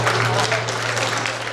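An audience claps steadily at a city event broadcast, a dense, even patter of many hands filling the room for a brief stretch without voices on top.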